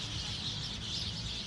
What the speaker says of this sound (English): So these birds are like having a party like us. If you can see all of them in the tree, they're so loud.